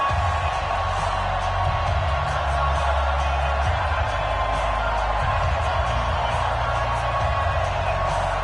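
A sold-out football stadium crowd roars steadily as the home team is introduced, a dense wash of distant cheering with no pauses throughout.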